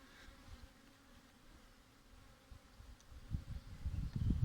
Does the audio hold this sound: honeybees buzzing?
yes